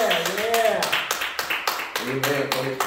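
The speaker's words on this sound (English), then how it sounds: "Go ahead and give the Lord a hand clap." A church congregation claps hands in a steady, rhythmic beat beneath a prominent voice speaking or chanting over the top.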